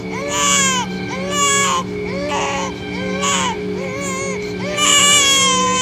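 A baby cries loudly in repeated wailing bursts, close and insistent, set in a narrated fairy tale with a steady tonal background underneath.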